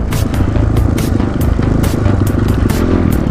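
A GPX Moto FSE 250e motorcycle rides a trail at Five Mile Pass, its engine droning steadily up close while the chassis rattles and clatters with regular bumps over rough ground.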